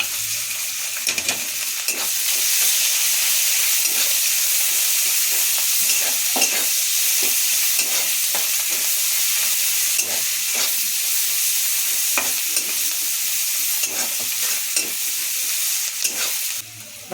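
Cumin, garlic and chopped onion fry in a hot pan for fried rice, a steady loud sizzle and hiss with intermittent stirring scrapes throughout, no voices.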